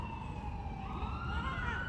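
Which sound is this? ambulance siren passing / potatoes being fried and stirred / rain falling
ambulance siren passing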